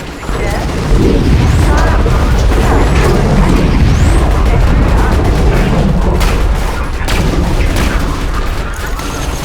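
Borderlands 2 combat with a loud sustained barrage of booms and blasts, a grenade explosion among dense gunfire and mechanical game noise; speech is faintly present underneath.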